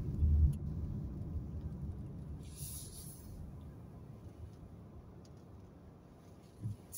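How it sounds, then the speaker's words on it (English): A car rolls past on a road in North Bristol, its low rumble loudest at the start and then fading steadily away, with a faint hiss of tyres and no talking. "Yeah, man, car come through."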